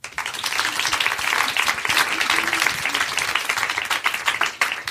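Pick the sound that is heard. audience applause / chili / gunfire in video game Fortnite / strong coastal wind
audience applause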